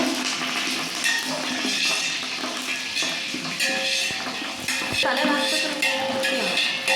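Curry leaves and cooked chickpeas crackling and sizzling in hot oil in a home kitchen, a loud continuous spitting fry with stirring and clinks of the pan.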